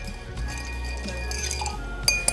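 Cocktail stirred with ice in a mixing glass, holding elderflower vodka, Akashi plum whiskey and lime juice; soft continuous clinking runs through the clip, ending in two sharper, louder glassy clinks near the end.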